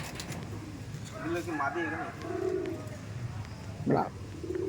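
A pair of Madrasi pigeons coos in soft, rolling phrases, with someone talking over the birds throughout.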